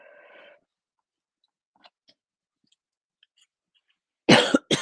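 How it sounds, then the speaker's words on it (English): A single harsh, loud cough bursts out near the end after a near-silent stretch, preceded by a short murmur and a few faint clicks. "I get this cough is just not relenting"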